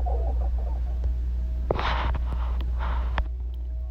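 Hens and a pumpkin-coloured rooster in farm breeding pens give low, uneven clucks close by, with a couple of louder, brighter calls in the middle over a steady background hum.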